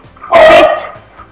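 A single loud, close dog bark, one sharp burst indoors in a house with no other sounds around it.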